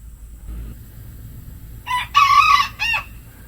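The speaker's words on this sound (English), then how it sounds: "And they have some chickens here. This old rooster here let me know" A rooster crows once nearby, a loud, drawn-out call ending in a short final note, after a brief quiet lead-in, at a roadside stop with an old pioneer cabin.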